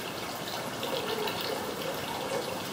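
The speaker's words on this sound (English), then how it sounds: "to beat the fiber, first we strain it to get rid of a fair amount of the water" Water drains steadily from gampi fiber being strained for Japanese-style papermaking, making a continuous close splashing trickle with a bright hiss at moderate loudness and no talking.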